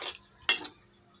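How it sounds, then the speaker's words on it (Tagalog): Chicken with lemon stirred in a cooking pot for dinuguang manok, with a couple of metallic clinks and scrapes of a spoon against the pot, one sharper clank near the middle and quiet in between. "Siyempre, hahaluin na naman. Halo lang ng halo"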